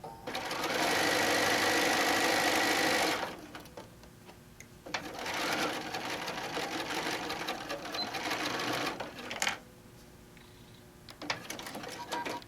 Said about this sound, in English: and then continue sewing